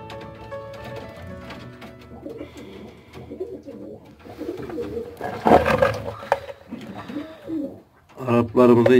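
Arab pigeons and their young coo in soft, repeated, rolling calls close by, while a person talks intermittently.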